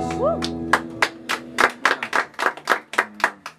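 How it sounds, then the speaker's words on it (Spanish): Scattered hand claps at a birthday party with a mariachi show, a dozen or so distinct sharp claps in loose rhythm, following a brief voice and a fading held tone. "un aplauso para ustedes"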